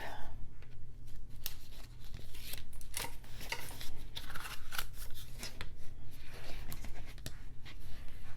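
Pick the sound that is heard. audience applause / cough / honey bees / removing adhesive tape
removing adhesive tape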